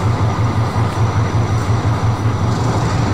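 From inside the cab of a moving locomotive during shunting, a loud, constant rumble carries a steady, rhythmic low thumping of wheels over rail joints, with no talking.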